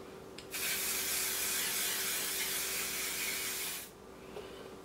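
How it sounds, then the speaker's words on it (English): Hair spray misted onto the front of a glueless 360 lace frontal wig, one continuous close hiss of about three and a half seconds, with quiet room tone before and after. "I'm also going to add my spray to the front."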